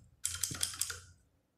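Rapid burst of clicky typing on a T-Dagger Corvette mechanical keyboard with blue switches, about four or five sharp, close keystrokes in quick succession before fading to quiet.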